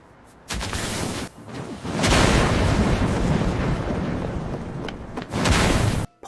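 A large, showy explosion in an action-genre scene created with an AI video tool. Loud booming blasts swell and rumble continuously for several seconds, with sharp bursts near the start and end, and no talking.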